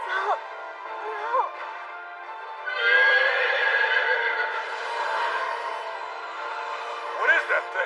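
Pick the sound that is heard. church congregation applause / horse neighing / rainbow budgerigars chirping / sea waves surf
horse neighing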